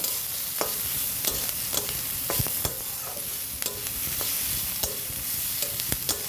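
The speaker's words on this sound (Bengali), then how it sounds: "পেঁয়াজ একটু বেশিই দিয়েছি, পেঁয়াজটা একটু ভেজে নেব।" Chopped onions fry in oil in a pan for a sour fish roe dish. A steady close sizzle is broken by repeated scraping strokes of a spatula stirring through the pan, with no voices.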